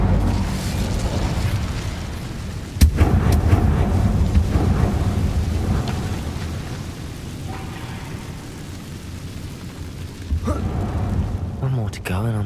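A fire-casting Incendio spell in Hogwarts Legacy bursts out as one sudden whooshing blast, then rumbles on under game ambience, with another flurry of effects near the end.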